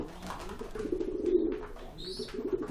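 Sport pigeons coo in low, throaty rolling phrases while fighting over territory, close and fairly loud, with short pauses between bursts.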